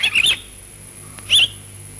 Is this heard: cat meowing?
no